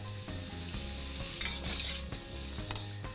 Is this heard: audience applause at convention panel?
no